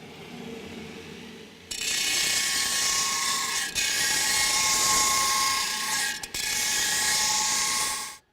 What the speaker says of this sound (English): now I'm going to grind away the excess of the material